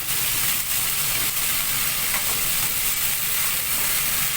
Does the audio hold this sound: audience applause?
no